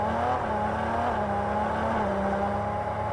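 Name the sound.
Ferrari supercar moving off slowly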